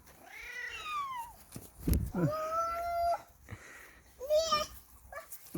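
Several close cat meows, some rising and falling, come one after another, with a brief thump and a person speaking softly between them.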